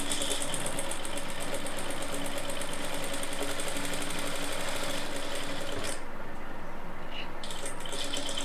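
A sewing machine runs steadily, stitching a drop-neck yoke piece on a tailoring garment, with a continuous dense whirring hum that briefly dips near the end before resuming.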